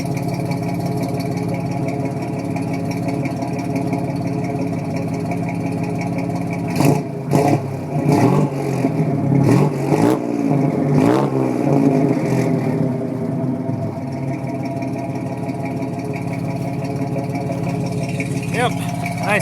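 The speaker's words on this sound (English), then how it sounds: "See if I can rev it a couple times for you." A 1964 GMC truck engine with a newly fitted exhaust idles, then gets blipped through several crisp revs in the middle before settling back to idle. The engine sits close and steady throughout.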